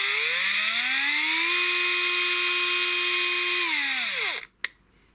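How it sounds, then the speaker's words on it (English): A Fanttik NEX L1 Pro electric screwdriver whirs alone at slow speed, its steady motor whine rising as the trigger is squeezed, holding level, then winding down to a stop followed by a sharp click. "you can actually control the speed of the screwdriver with the trigger"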